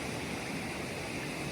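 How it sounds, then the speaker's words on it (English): Water runs down through rocks, eroding deep crevices in a small landslide-like area, and makes a steady, dense rush that fills the whole moment without a break and with no voices. "the water runs down through these rocks, leaving deep crevices"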